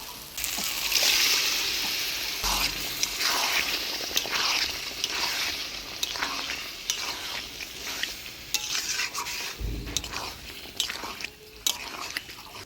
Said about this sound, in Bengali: এবার সিদ্ধ করে রাখা মাংস দিয়ে দিব